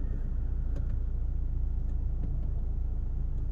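A Mini Cooper S Paddy Hopkirk Edition engine running with a steady low rumble, heard from inside the car, constant and fairly loud with no clear rise in revs.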